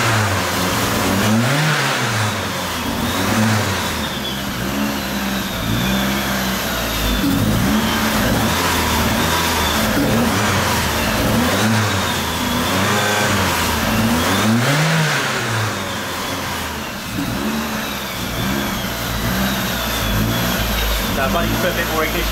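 Toyota Celica ST205 GT4 turbo engine revving against launch control, with repeated rising and falling surges held at a limited rpm, loud and close, with crackling pops on the off-throttle.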